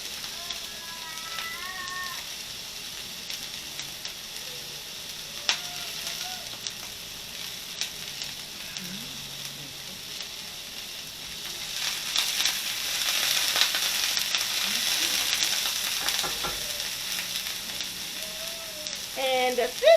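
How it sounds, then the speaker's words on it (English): Frozen mixed vegetables frying in hot oil for fried rice, their ice water spattering: a crackling sizzle with occasional clinks and stirring scrapes, swelling louder and denser in the second half. "the sizzle that you guys hear is because the vegetables were frozen and they have water with them"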